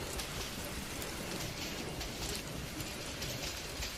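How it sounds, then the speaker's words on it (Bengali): Heavy rain pours down steadily and densely in a constant close wash of falling water, with no pauses and no voices. "চারপাশে ঝুম বৃষ্টি।"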